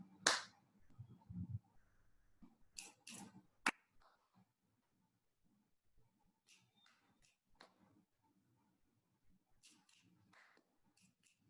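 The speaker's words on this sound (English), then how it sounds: "I am going to snap and clap." Finger snaps and hand claps in a counting game, a few sharp isolated hits near the start followed by fainter scattered snaps and claps, with sparse quiet voice sounds between them.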